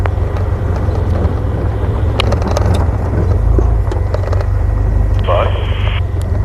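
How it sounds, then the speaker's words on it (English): A vehicle engine drones steadily in the background on a live safari drive while a person talks over it, with some brief clicks and a short high tone. "Can you hear my car?"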